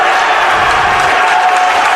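Crowd applauding and cheering at a Minot High School swim dual meet in the school pool after a team relay sets a new pool record; steady, dense clapping fills the whole stretch with a reverberant indoor wash.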